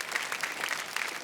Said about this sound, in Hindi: भाई जोरदार तालियां।